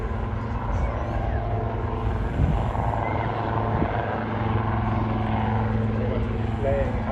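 A Royal Navy Wildcat helicopter hovering at an air show in Swansea, its steady rotor and engine roar loud and continuous throughout, with a strong low throb.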